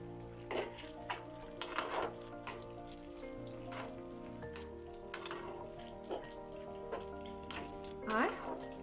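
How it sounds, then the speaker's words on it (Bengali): Fried paneer pieces tipped into a mixed vegetable curry and stirred in a pan, giving repeated scraping and sizzling stirs with soft wet clatter at a steady, close rhythm. "এবার এতে আমি ফ্রাই করে রাখা পনিরগুলো দিয়ে দিলাম, দিয়ে মিক্স করে নেব।"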